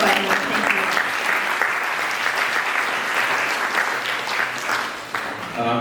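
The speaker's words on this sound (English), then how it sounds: "So a big round of applause again for our moderators" An audience applauds at the close of a conference session on entrepreneurship and AI in education, steady dense clapping from a room of people that tapers slightly near the end.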